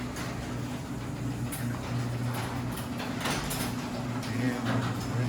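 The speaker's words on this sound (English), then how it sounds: "now we're going to shut the garage door" Genie ProMax garage door closing, a steady low mechanical hum and rumble from the opener with faint rattles throughout, fairly close, with some background voice.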